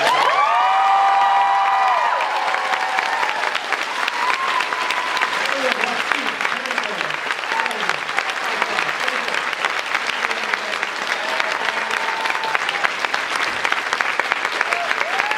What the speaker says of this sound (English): So give a cheer for Gina.